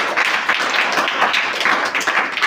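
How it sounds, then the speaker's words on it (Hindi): Audience applause rewarding a correct answer at a children's general-knowledge quiz contest, a steady wash of many hands clapping throughout, close and fairly loud with no talk over it. "ताली बजाइए।"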